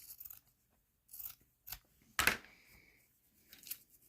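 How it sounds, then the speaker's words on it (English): Small scissors snip through craft material for a miniature dollhouse armchair, several short crisp cuts spaced irregularly and close to the microphone, with quiet pauses between them. "So I'm just going to cut this down."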